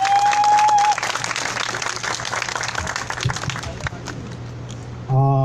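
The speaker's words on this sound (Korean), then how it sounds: "힘찬 박수 받아주시기 바랍니다." Rally crowd at a weekly Wednesday street protest applauds loudly and steadily, a dense wash of clapping that holds for about five seconds before a brief musical tone cuts in at the end.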